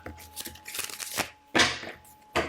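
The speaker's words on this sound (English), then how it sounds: "Let's give it a little shuffle with that cleansing there." Deck of tarot cards being shuffled by hand, a few riffling, papery bursts of flicking cards with a couple of sharper snaps, close and moderately loud, with no talk.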